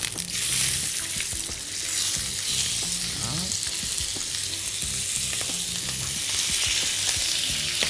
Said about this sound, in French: on va les cuire, on va les laisser dorer de chaque côté